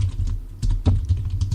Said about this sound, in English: typing at the same time